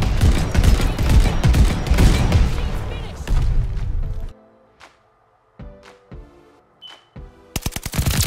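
Rapid automatic gunfire rattles loud and close in a Call of Duty Vanguard match on the Castle map, a dense stream of shots for several seconds, then sparse single cracks and a sudden final burst, with a player talking briefly.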